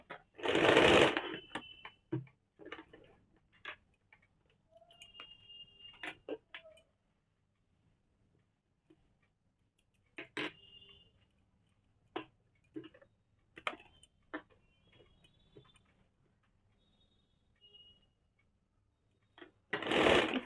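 A sewing machine stitches fabric for a kaftan nightie in short bursts of rapid stitching separated by quiet pauses and small handling clicks, fairly close.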